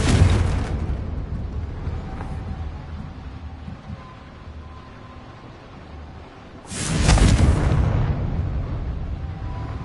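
Two heavy explosive blasts from the Confringo spell in the video game Hogwarts Legacy, one at the start and another after a quieter stretch, each a loud booming burst that decays into rumbling debris.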